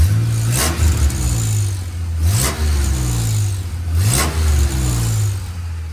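A supercharged 3800 engine swapped into a Chevy S10 with a vacuum leak revs hard three times, each blip climbing and then hanging before settling back to a loud, steady idle, up close with no talking, in the cold.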